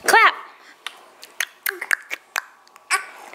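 A baby claps its hands in a few scattered, soft, close claps, while an adult coaxes and cheers nearby and a voice babbles at the start.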